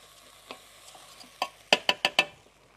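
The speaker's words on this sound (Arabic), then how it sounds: "بس سامعين صوت التحميصه دي؟ دي التحميصه اللي انا عايزاها." Turmeric and curry spices roast in a hot pan, giving a steady crackling sizzle with a run of four sharp, close stir-scrapes near the end.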